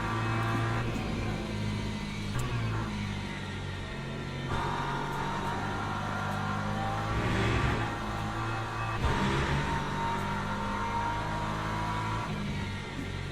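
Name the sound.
hypercar engines racing in video game Le Mans Ultimate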